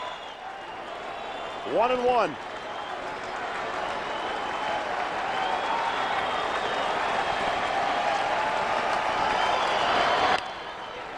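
A baseball stadium crowd at an Angels vs Rangers game in Los Angeles roars and applauds in a steady, dense wash. It swells slightly near the end, and a commentator talks over it.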